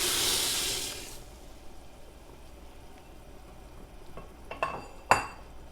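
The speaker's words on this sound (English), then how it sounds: "Give it a stir." Lentil soup in a pot gets a brief stir, with a few soft scraping and clinking strokes near the end after a quieter stretch, and a burst of hiss at the start.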